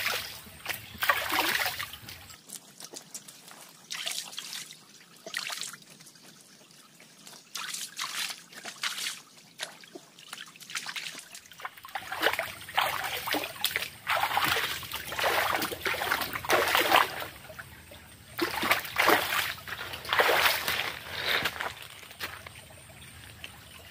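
A freshly dug hill jungle potato is rinsed by hand in water outdoors, with continuous close trickling and dribbling, small splashes and drips as it is turned and washed.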